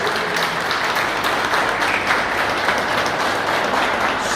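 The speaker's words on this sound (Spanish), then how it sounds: "un gran aplauso" Loud, dense applause from an audience at a 40-year class reunion of the 1979 graduating class, continuous clapping with no break, heard close throughout.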